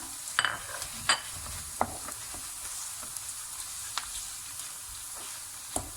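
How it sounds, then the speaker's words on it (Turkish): Minced meat frying in oil for Albanian börek filling, a steady low sizzle broken by sharp, irregular spatula scrapes and taps against the pan as it is stirred, close-up and moderate in level. "Kıymamızı devamlı karıştırdım arkadaşlar."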